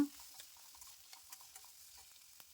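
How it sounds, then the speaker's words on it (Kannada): Dried red chillies, garlic and ginger fry in oil with a faint, thin sizzle. Scattered soft ticks and pops come from the pan, heard close but quiet. "ಇವನ್ನೆಲ್ಲವನ್ನು ಎಣ್ಣೆಯಲ್ಲೇ ಫ್ರೈ ಮಾಡ್ಕೊಳ್ಳೋಣ"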